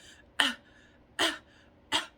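Three strained, rasping throat-clearing bursts, each short and harsh, spaced about a second apart, like someone struggling to cough.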